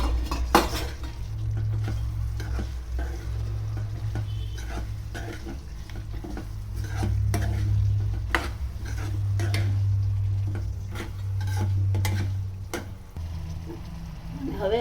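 Boiled drumstick pieces stirred into frying masala in a pan for a traditional Gujarati drumstick curry, with steady sizzling and frequent scraping, clinking stirs of a spoon against the pan throughout.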